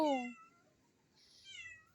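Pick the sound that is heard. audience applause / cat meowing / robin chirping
cat meowing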